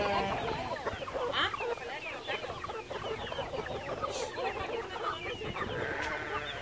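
Chickens cluck and squawk nearby in a busy, continuous chorus, with people talking faintly underneath.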